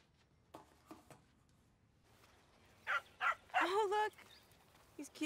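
A small dog barks in a few short, close yips, with speech-like sounds around them and one louder cluster of sharp barks near the middle, at moderate loudness.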